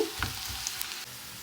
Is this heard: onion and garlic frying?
yes